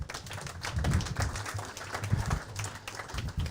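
A crowd at a sommelier championship applauds steadily for a few seconds, many hands clapping in a dense, even patter at moderate volume, with no speech.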